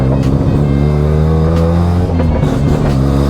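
Mazda 2 fitted with a 13B PP-port rotary engine and an MR2 gearbox, idling loud and close with a choppy, lumpy brap-brap pulse that carries on steadily throughout.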